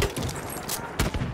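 Enemy machine gun fire in the Battlefield 1 video game, with bursts of rapid gunshots and a louder burst near the end, partly under a shouted voice.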